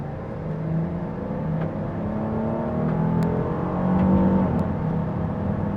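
A 2026 Kia Carnival V6 minivan engine pulls steadily at about half throttle, a smooth rising drone with gradual pitch climb heard from inside the cabin, continuous and fairly loud with no talking.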